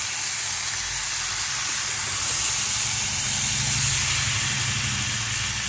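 Egg and potato curry hisses loudly and steadily in the pan after water is added, a dense, close, continuous steam-like sizzle that holds for several seconds without a break.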